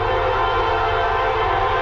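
A Norfolk Southern freight train, led by a rebuilt AC4 locomotive, passes in Middlesex, New Jersey with a loud, steady rumble and roar at close range.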